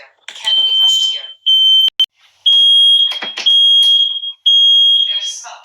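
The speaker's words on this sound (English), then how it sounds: "There's smoke in the master bedroom. Emergency. This alarm can't be hushed." Loud shrill beeping from a Nest smoke alarm in a house, several sustained high tones with short gaps, interleaved with the device's recorded voice warning about smoke in the master bedroom.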